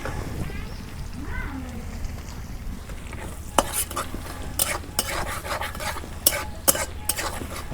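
Cumin seeds hit hot oil in a pan for tempering a chicken bhuna, starting quiet and then breaking into a sizzle with sharp crackles and pops. Spoon clinks and stirring are heard over a steady frying hiss.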